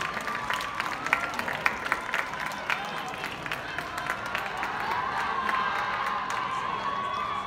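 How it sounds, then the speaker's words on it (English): A crowd at a high school homecoming awards ceremony applauds and cheers for the newly crowned duke and duchess, steady clapping with scattered shouts filling the whole stretch at moderate volume. "Please join in a round of applause as we congratulate our newly crowned Duke and Duchess."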